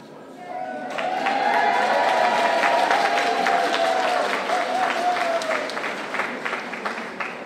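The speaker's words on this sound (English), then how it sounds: "If you agree with the agenda, cheer to ratify it." Delegates at a community accountability assembly cheer and applaud to ratify the agenda, a loud sustained burst of clapping and crowd voices that swells quickly and slowly tapers off.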